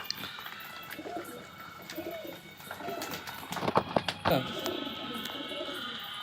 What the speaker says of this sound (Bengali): এখনও কিছু পায়রা জল খাচ্ছে